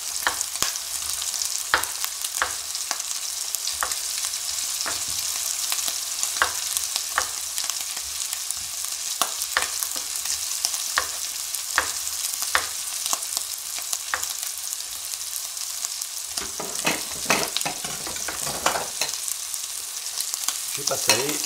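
Rabbit saddles brown in a hot pan, a steady bright sizzle with scattered crackles and occasional stirring scrapes, close and continuous without talk.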